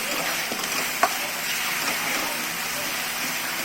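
Ridge gourd with chana dal and masala sautés in a pan, a steady close sizzle with soft stirring and one sharp utensil tap, without talking.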